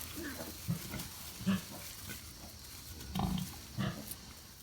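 Newborn piglets and their sow in a farrowing pen on a farm give a few short grunts and squeals, scattered near and moderately loud over a quiet background.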